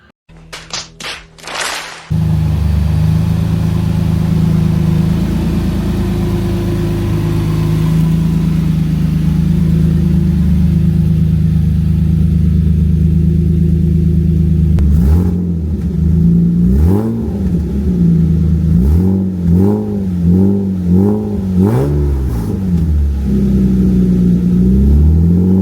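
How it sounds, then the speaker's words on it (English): A TB48 engine with new Pacemaker extractors and a single muffler rumbles loudly at idle after a few brief knocks. Partway through it bursts into a run of repeated throttle blips, each roaring up and dropping back. "with the new pacemaker extractors and just the one muffler, it's a little bit too loud"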